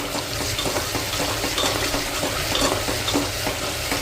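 Mutton curry masala sizzles and fries steadily in a pan, with continuous crackling and occasional stirring scrapes, close and fairly loud.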